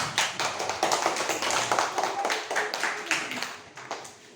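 Schoolchildren clapping together in a classroom lesson, a loud burst of brisk, slightly uneven claps from a small group, with voices mixed in.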